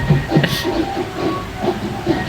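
A train running in a multiplayer shooter game, a loud, steady rumbling hiss with hazy rhythmic clatter, close and continuous, with game noise mixed in.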